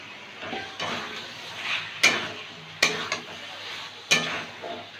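Potato pieces go into a pan of spiced egg curry and are stirred, with a soft sizzle underneath and three sharp, close clacks of a spoon against the pan at regular intervals.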